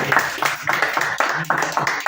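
An audience at a rabbi's Passover talk applauds, a loud nearby patter of hand claps coming in uneven bursts and pulses for a couple of seconds.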